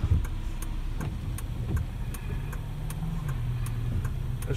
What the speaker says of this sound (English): There's plenty of traffic on the road